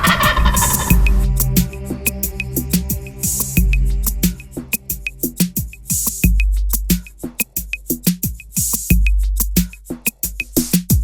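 A wild turkey gobbler gobbles loudly and repeatedly in the spring woods, rapid rattling bursts coming in a string of calls, mixed with other sharp fowl clucks and yelps.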